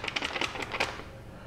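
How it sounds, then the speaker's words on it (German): A paper dollar bill is flapped and shaken in the hand, giving a quick run of crisp, papery rustles and flutters over about a second, close up and fairly quiet, then fading out. "Kannst du es mal so schön flattern lassen?"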